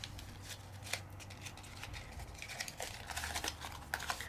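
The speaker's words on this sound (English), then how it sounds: "So I'm just going to crinkle it up." Paper crinkled by hand for a distressed craft look gives soft, close crackling and rustling in uneven bursts, growing busier toward the end.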